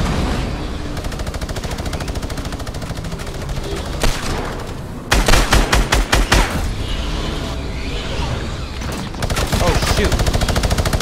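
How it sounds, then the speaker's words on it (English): Rapid automatic gunfire in a video game's drift limited-time mode, with a steady rattling stream of shots, sharp bursts midway and louder fire near the end, all under busy game sound. "Now I can shoot."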